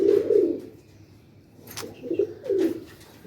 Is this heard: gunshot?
no